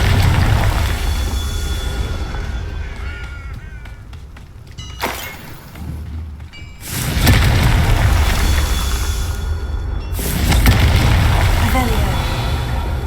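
Confringo blasting spell in Hogwarts Legacy, booming explosive bursts that swell into a long rumbling roar, with a sharp crack near the middle, loud and close over game noise.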